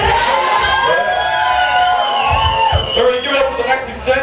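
A comedy club crowd cheers and whoops loudly at a live show, a burst of shouting and hollering voices that swells and persists, with an emcee's voice over it.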